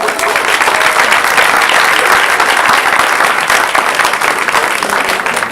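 Sustained, dense clapping from an audience at a school board meeting, steady and loud throughout without a break.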